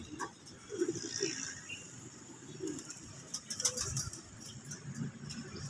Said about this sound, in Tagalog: Magandang ibon ating inagpasan.